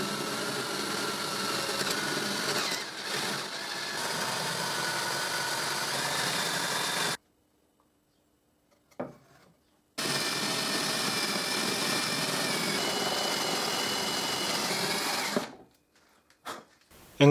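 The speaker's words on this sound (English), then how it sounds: "I remove the points and I drill the holes for these hinges." A power drill bores hinge holes into a wooden display cabinet, running in two steady bursts of about seven and five seconds, each followed by brief handling clicks and quiet.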